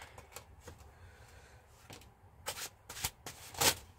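Tarot cards being shuffled by hand, soft quiet riffles and taps building into a few louder, crisp bursts of flicking cards near the end.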